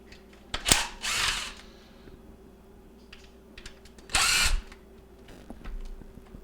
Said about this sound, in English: There's held in place with some screws here. So we'll go ahead and remove those.